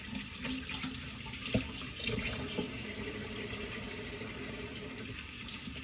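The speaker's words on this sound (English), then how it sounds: "now let me wash my hands" Water runs steadily from a kitchen tap into a sink while hands are washed, with a continuous close splashing hiss, a few brief knocks and no talking.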